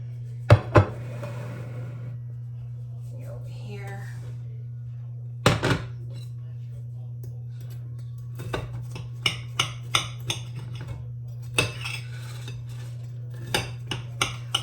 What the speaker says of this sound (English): And then I'm going to cut my cornbread.